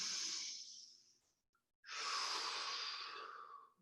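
Two long, close breaths during a yoga plank pose: a steady airy exhale fading out, a short pause, then a strong, sustained inhale, with no talking.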